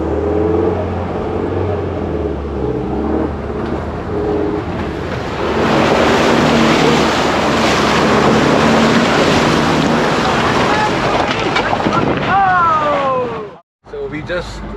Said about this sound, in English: this was my time to activate 4x4 low and push the vehicle forward